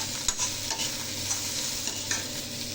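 Onions frying in oil in a wok, stirred briskly: a dense steady close sizzle with a few quick spatula scrapes, no talking.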